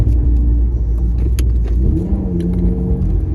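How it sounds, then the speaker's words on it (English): A manual car's engine hums steadily, then its pitch climbs briefly as it revs during a downshift from third gear, heard from inside the vehicle with road rumble. "I did some gas there because when I downshift, my RPMs shoot up."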